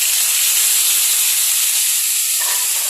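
Chicken pieces with kasuri methi in hot oil for biryani, a loud steady hissing sizzle that fills the clip without pause, no voices over it.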